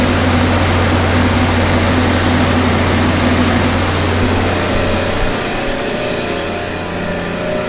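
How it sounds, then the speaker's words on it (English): A farm's backup generator runs just outside the building, a loud constant engine drone with a steady low hum that eases slightly toward the end. "That's our generator just outside the building here."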